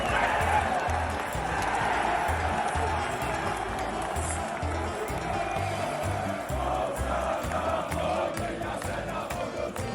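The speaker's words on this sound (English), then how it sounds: "Everyone was still singing." Basketball fans chant and sing continuously in a European arena, a dense, steady crowd roar with rhythmic drumming beneath.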